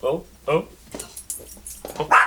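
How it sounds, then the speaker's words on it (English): A couple of short dog barks sound close by, followed by quick overlapping vocal sounds and yips in a quiet room. "they hear another dog bark"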